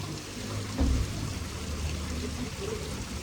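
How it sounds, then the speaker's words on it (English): Water features trickling in a restaurant's outdoor dining area in Karachi, a steady wash of running water with a low rumble of background noise underneath. "in their outdoor dining area downstairs, they had these water features which provided the most ambient sound to the area"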